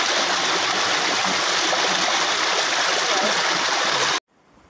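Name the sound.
Rangeet river stream flowing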